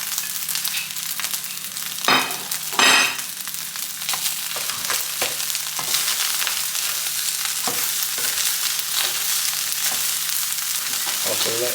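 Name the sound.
fried rice ingredients frying and stirred in a pan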